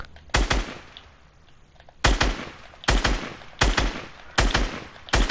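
Video game gunfire comes in sharp, loud bursts, four or five rapid volleys separated by short pauses, close and dominant, with no talking.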